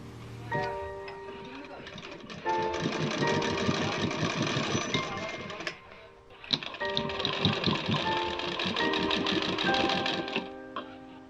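An electric sewing machine stitches fabric for a latkan tassel, running in two steady bursts of rapid mechanical ticking with a brief pause between them.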